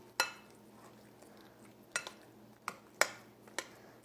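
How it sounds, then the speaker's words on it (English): Banana bread batter, gluten-free and dairy-free, being mixed in a bowl: a few sharp clinks and knocks of a utensil against the bowl, spaced irregularly, over a quiet steady room hum with no talking. "Just mix it all up very well."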